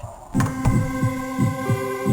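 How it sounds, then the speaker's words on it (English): A pounding heartbeat in the horror video game Dementium: The Ward, with about five heavy, evenly spaced thumps over a low sustained hum and drone. "my heartbeat is pounding so fast"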